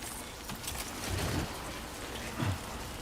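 Timefall rain in the video game Death Stranding 2, a steady hiss of falling rain with a couple of brief heavier patters, moderately loud and continuous.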